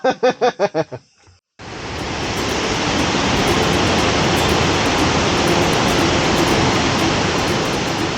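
Thi Lo Su waterfall in a Thai forest roars as a loud, steady broadband rush of falling water that fills the clip after a few brief rhythmic sounds at the start, continuous and close with no talk over it.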